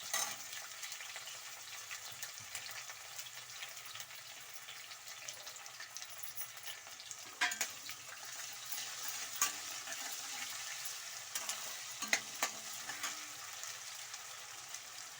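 Garlic ginger paste fries in a pan for capsicum rice bath, giving a steady, close sizzle with occasional sharp spatters and stirring scrapes, with no voices.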